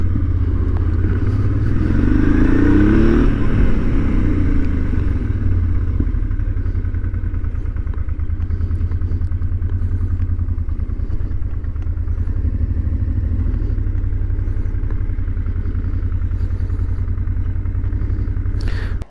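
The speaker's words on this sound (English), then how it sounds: "I was riding the new Honda 750 TRANSALP" A Honda Transalp motorcycle is ridden, its engine a steady loud drone with a brief rising rev early on, then holding an even pitch, with no talking.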